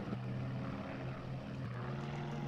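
A damaged aircraft engine in the IL-2 Sturmovik flight game drones steadily with a rough, low propeller hum, faint and continuous with a slight pitch shift midway.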